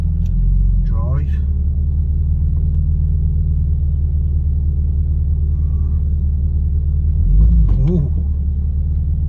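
A Toyota Supra JZA80 with a twin-turbo 2JZ engine, laid up for six years, rumbles loudly at a steady idle as the car creeps in gear, with brief exclamations from a nearby voice.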